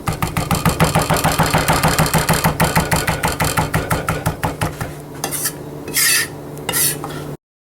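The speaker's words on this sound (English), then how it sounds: "Very, very nice, even, consistent, smooth cuts. These herbs don't have a chance." A knife chops herbs on a cutting board in a fast, even run of close, loud strikes, then stops and leaves a few short scraping sweeps and brief noise bursts.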